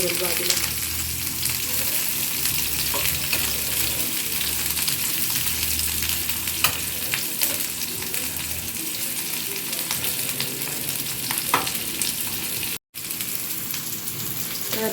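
Sliced onion frying in a pan to golden brown for a spicy prawn masala, a loud, even, rain-like sizzle running unbroken except for one brief cut, with little talk.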